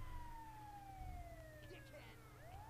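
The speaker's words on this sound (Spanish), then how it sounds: "aquí viene una ambulancia" An ambulance siren in GTA Online wails in long, gliding falling and rising tones, faint and somewhat distant over a low engine rumble, with brief chirps and other in-game noise near the end.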